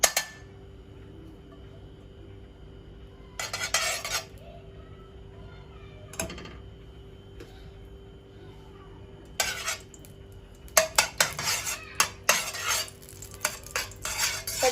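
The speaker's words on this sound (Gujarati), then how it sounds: "પહેલા આપણે કઢાઈમાં 2 ચમચી ઘી એડ કરી દઈશું" Ghee spooned into a kadai, heard as a few sharp metallic spoon clinks and scrapes against the pan in separate bursts over a quiet, steady background hum.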